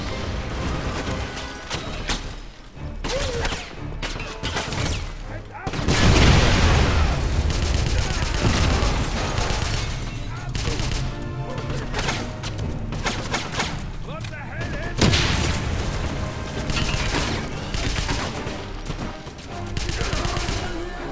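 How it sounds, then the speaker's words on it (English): Gunfire and a grenade blast in the 2009 Wolfenstein video game, with a loud, dense burst of explosions and rapid shots rising around the six-second mark and continuing in heavy waves throughout. "Fuck off throwing that grenade all the way over here."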